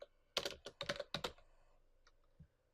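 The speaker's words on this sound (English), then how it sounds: "So I can type in NEGO." Fingers type a quick run of about a half dozen clicky strokes on a computer keyboard, followed by a couple of lighter taps, quiet and close.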